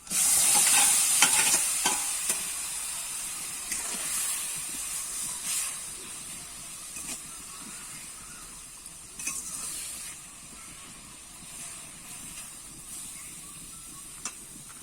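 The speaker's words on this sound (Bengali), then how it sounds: "একটু আমি নাড়িয়ে চাড়িয়ে নেব" Raw mango mixed with sugar for pickle hisses and sizzles loudly as it hits a hot pan, then settles into steady frying with occasional scrapes and clinks of stirring, close, with no talk.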